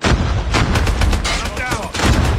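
Call of Duty Mobile gameplay with a loud grenade blast and gunfire, several dense bangs packed into a couple of seconds, close and forceful.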